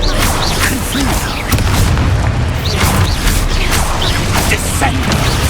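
Spell blasts and booming bursts from the Confringo fire spell in Hogwarts Legacy gameplay, loud and continuous, layered with rumbling impacts and game effects.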